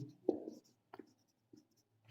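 Marker or chalk writing on a board during a Hindi maths lesson on number factors, heard as short scraping strokes in separate bursts with pauses between them, fairly quiet and with no talk over it.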